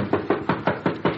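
Six steady, evenly spaced knocks on a door, firm and close, in a quick rhythm with no voices over them.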